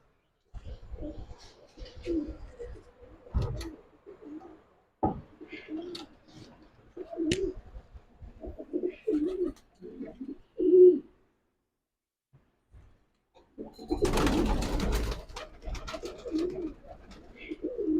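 Pigeons with young coo in soft, low, repeated phrases nearby, broken by pauses, wing flutters and a burst of scuffling noise.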